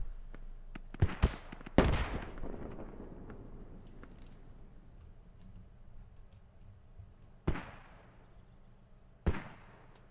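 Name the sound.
mortar shells exploding in a video game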